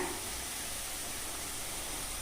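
Ginger garlic paste sautés in hot oil with chopped coriander and mint for a tomato rice gravy, giving a steady, close, even sizzle and hiss that runs on its own without any talk.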